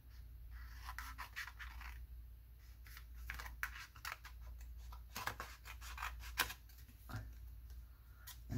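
Scissors cut apart craft packaging in a quiet room, giving a series of soft snipping and scraping strokes, close and faint, with irregular pauses between cuts.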